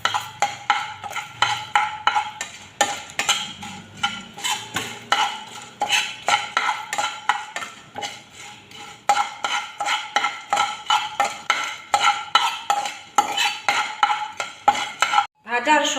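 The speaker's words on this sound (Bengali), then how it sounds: "একটা শুকনো প্যানে এবার সব বাদামের মতো ভেজে নেব।" Seeds dry-roast in a dry pan while a spoon stirs and scrapes them, producing rapid rhythmic rattling and scraping strokes that continue steadily and close up.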